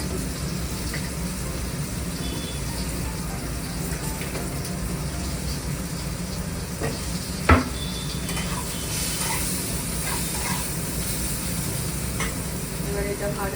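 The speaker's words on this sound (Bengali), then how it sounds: "একটু লাল লাল করে ভেজে নেবো।" Food frying with turmeric and salt in a home kitchen: a continuous soft sizzle with occasional stirring scrapes and one sharp clink of a utensil against the pan.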